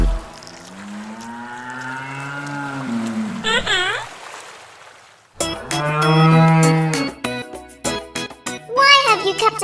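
A cartoon cow moos in a children's Old MacDonald farm song, with long drawn-out lowing calls at the start, then sung melody and voices after a brief pause.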